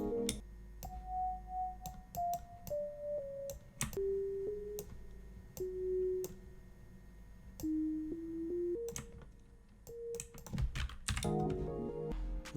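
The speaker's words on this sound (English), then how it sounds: "Pulled up this piccolo woodwind preset and basically just made like a super simple flute pattern." Simple piccolo flute pattern from a BBC Symphony Orchestra preset in an FL Studio pluggnb beat: a quiet string of short, plain held notes stepping up and down, broken by soft clicks, ending in a brief busier burst.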